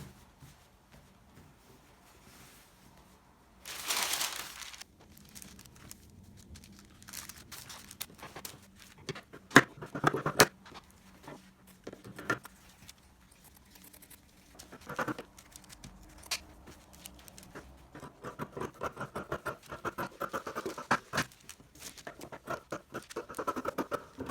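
Scissors cut through old denim trousers with scattered snips, scrapes and fabric rustles, close and fairly quiet, arriving in irregular bursts of handling noise.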